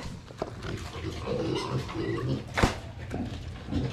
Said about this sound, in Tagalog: ipapakain na natin sa mga alaga nating baboy